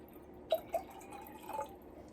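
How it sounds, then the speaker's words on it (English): Water poured into a drinking glass from a set of differently shaped glasses, giving a few short drips and splashes followed by a brief trickle, close and fairly quiet. "Let's add some more water in there."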